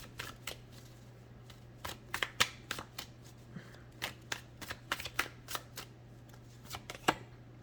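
Tarot cards being shuffled for a reading, a quick run of crisp riffling snaps and soft slaps repeating in irregular bursts, close and fairly quiet, over a steady low hum with no talking.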